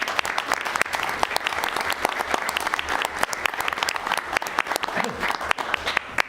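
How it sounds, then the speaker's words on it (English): An audience at a county commission meeting applauds a long-serving staff member being honoured, steady close clapping throughout with sharp individual claps standing out. "Let's give her a round of applause."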